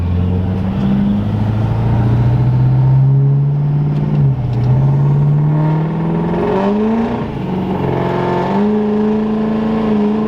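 A Duramax L5P diesel pickup truck accelerates hard under boost, its engine note climbing steadily through the gears with a loud, close drone and rising whine, the pitch dipping briefly at each shift.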